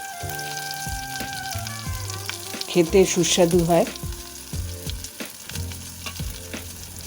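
Pieces of maan kochu (giant taro) seasoned with salt and turmeric fry in a pan, a close crackling sizzle with stirring scrapes and a clattering burst midway, while someone speaks briefly.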